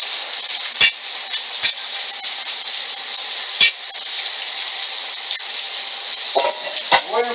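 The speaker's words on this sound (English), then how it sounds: "Now that potato grease, I'm going to cook the potatoes in." Potatoes sizzle in hot potato grease in a pan over high heat, a steady bright crackling hiss with a few sharp pops and clicks scattered throughout.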